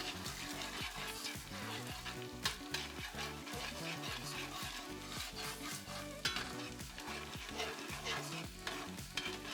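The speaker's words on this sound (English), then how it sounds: "Use your tongs or your spatula, whatever it is, and scramble it on up" An egg is scrambled with a spatula in a hot frying pan while making beef pad thai, giving a steady sizzle with busy scraping and clattering strokes throughout, close and loud, and no one speaking.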